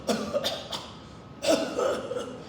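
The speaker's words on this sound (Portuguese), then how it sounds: "e fica com essa tosse chata, parece que está engasgado" A person coughs several times in quick, harsh bursts, then pauses and coughs again, close and fairly clear.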